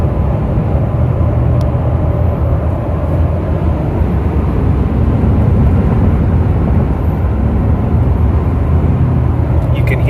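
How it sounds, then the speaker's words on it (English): Steady low rumble of a 2015-2018 Ford F-150 with a 5.0 V8 and Rough Country cold air intake, cruising on the highway at about 1600 RPM, continuous and fairly loud with a deep, even tone and no talking. "hear that little bit of rumble. It sounds excellent."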